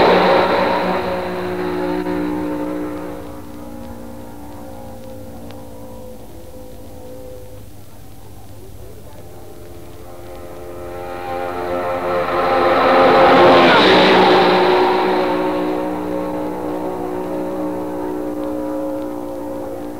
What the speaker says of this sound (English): combined a lot of power with not enough torque, and was really too difficult to drive for this reason. Nevertheless, it made a splendid sound.